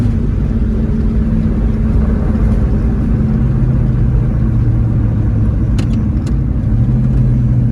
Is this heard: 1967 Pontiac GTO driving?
yes